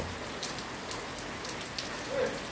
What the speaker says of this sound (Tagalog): Malalakas na hangin at pag-ulan ang ating pong naranasan sa kasalukuyan